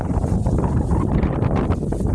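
Gusty wind on a rooftop roars and buffets the microphone in a steady, rough rush, loud and close throughout, with no voices.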